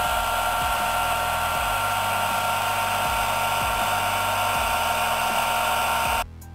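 A hair dryer runs steadily at close range to dry a freshly mopped wet floor, giving a loud, even whirring hum with a faint periodic pulse that cuts off abruptly near the end.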